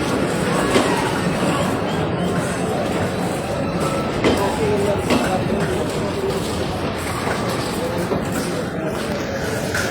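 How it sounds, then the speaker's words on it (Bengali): At Kamalapur railway station in Dhaka, a train from Ishwardi rolls into platform 8 with a loud, continuous rumble, wheel clatter and occasional high squeals and clanks, while station crowd noise and talk mix underneath. "ঈশ্বরদী থেকে যে ট্রেনটি ছেড়ে এসেছে এবং এই মুহূর্তে 8 নম্বর প্ল্যাটফর্মে সেই ট্রেনটি প্রবেশ করছে।"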